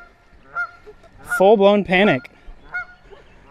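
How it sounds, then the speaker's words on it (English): A Canada goose honks loudly and close by beside a canyon stream in Illinois, two strong honks with fainter calls around them, while a person talks briefly. "Can you shut up, Canadian goose?"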